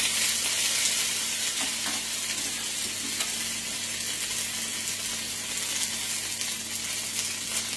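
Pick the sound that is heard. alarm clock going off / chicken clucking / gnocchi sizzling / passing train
gnocchi sizzling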